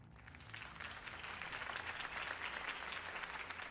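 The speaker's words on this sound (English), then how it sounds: "If only Mr. Wayne, my campaign's largest backer, could have heard that applause" Applause for a political campaign speech, a faint, distant crowd clapping that swells after a soft start and holds steady, with low background rumble beneath.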